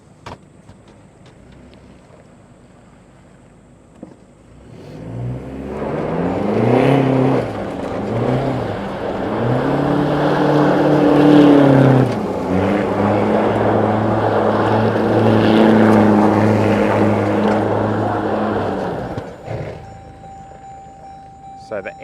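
A pickup truck with its locker engaged and traction control off spins donuts on gravel, the engine revving up into a sustained loud roar for about fifteen seconds before dropping back, with a voice talking briefly before it starts.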